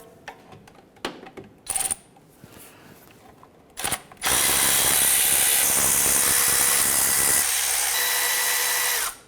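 Timing cover bolts on a 2009–2015 Honda Pilot being loosened: a few sharp ratchety clicks and knocks, then a loud, steady whir of a power tool running close for several seconds.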